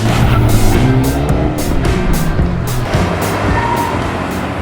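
A car pulls away on a race track during a brake training event, its engine roaring loud and close with the revs climbing steadily.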